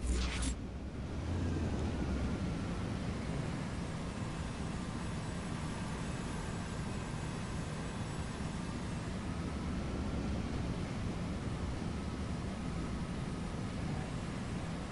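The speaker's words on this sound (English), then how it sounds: "Engines going slowly." Airplane engines drone in Saints Row 4, a dense, steady broadband roar that holds level and unbroken throughout, with no talk over it.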